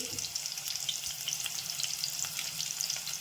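Carrot pieces, chopped ginger and green chillies frying in a pan of hot oil for upma, giving a steady close sizzle with faint crackles throughout.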